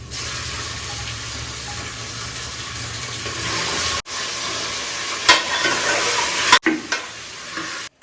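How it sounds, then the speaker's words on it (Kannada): About a kilo of goat mutton frying in a pan with its tempering for Mandya-style mutton saru, a loud close steady sizzle broken by a few stirring clatters and brief pauses, no speech. "ಸ್ವಲ್ಪ ಹೊತ್ತು ಫ್ರೈ ಮಾಡ್ಕೊತೀನಿ"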